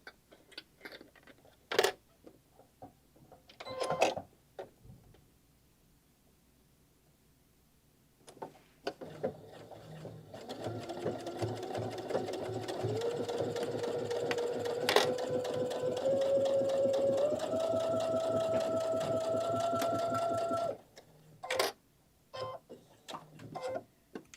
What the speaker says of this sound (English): Now we're going to sew the whole bottom.